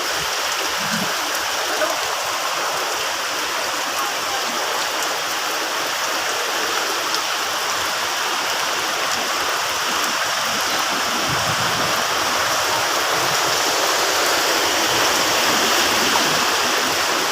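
Floodwater rushes through a flooded street, a loud, steady, unbroken roar of moving water that holds at the same level throughout, with no voices heard over it.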